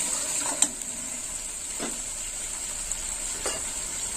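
Fennel paste frying in a pan, a constant bright hiss of hot oil with a few soft scraping stirs of a spoon breaking through at intervals, close up and fairly even in level.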